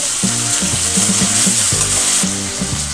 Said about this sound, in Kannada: ಬಟಾಟೆ ಒಂದು 5 ನಿಮಿಷ ನಾವು ಫ್ರೈ ಮಾಡ್ಕೊಳ್ಳೋಣಂತ.